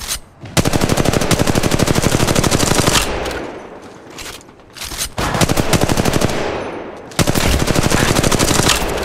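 Rapid automatic gunfire in the battle royale shooter Apex Legends, loud sustained bursts of machine-gun fire broken by short pauses, close and dominant with almost no talk.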